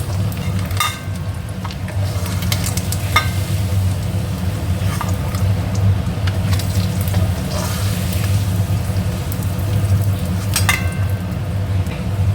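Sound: boiled potatoes frying in oil

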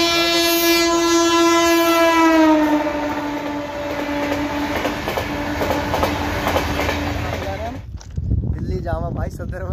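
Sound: passing train with horn

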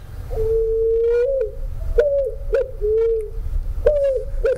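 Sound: picazuro pigeon (asa-branca) call

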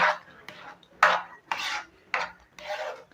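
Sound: stirring rava kesari mixture in a pan

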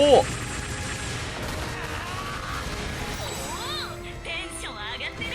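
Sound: gunfire from the Mobile Suit Gundam mobile video game

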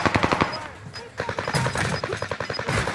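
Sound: machine gun fire in a video game

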